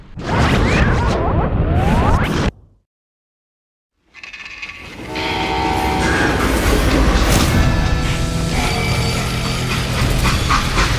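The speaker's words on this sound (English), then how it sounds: "How'd they stop this train in the first place?" Rumbling freight train noise from the video game Call of Juarez: Gunslinger, with clanking, ratcheting mechanical sounds, broken by a brief silence, then a steady loud rolling rattle of railcars.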